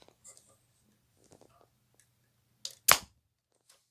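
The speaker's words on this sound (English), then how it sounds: "I just launched a missile at the camera." Faint small clicks and rustles, then a sharp pop and whoosh of a toy missile fired from a toy cannon up close.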